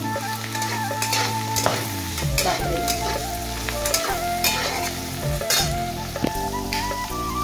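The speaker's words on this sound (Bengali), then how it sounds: "এইবারে যে ঢেঁড়সটা ভাজছি" Okra (ladies' finger) frying in very hot oil, giving a steady close-up sizzle with stirring scrapes and clatter throughout. Other tonal background sounds run underneath.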